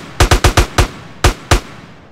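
Gunfire in GTA San Andreas, seven loud, sharp shots close by, five in quick succession and then two more spaced apart, with no talking.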